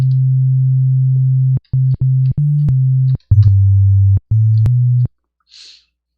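Sega Genesis FM synthesizer tone with a slow LFO making one operator waver in pitch, played as a run of steady low notes separated by short gaps, then a faint brief hiss at the end.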